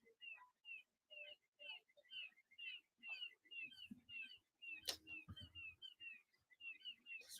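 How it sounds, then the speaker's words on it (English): Birds sing outdoors in a steady series of short, bright repeated whistled phrases with brief gaps between them, fairly faint and close, with a couple of sharper chirps cutting through. "Just the birds, no bees."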